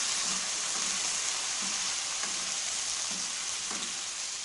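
Half a kilo of chicken for korma frying in a pan, a steady bright sizzle with soft periodic stirring scrapes, close up and without talk.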